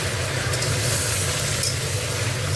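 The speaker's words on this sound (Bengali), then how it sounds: "মাংসটাকে ভেজে নিই" Chicken meat frying in a pan, a continuous even sizzle with light stirring, close and steady, with no voices.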